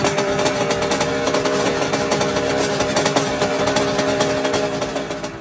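A two-stroke Grand Prix racing motorcycle engine runs steadily near the trackside at the Vallelunga circuit in Italy, with a crackly, buzzing idle and small throttle blips throughout, fading slightly at the end.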